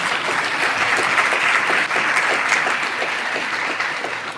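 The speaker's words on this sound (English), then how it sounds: "Please give another round of applause" Sustained applause from a large audience at a Chicago mayoral candidate forum, loud and even throughout, with no speech over it.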